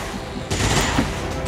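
A short burst of rapid automatic gunfire from XCOM 2: War of the Chosen, a loud rattling volley that starts abruptly and runs for about a second.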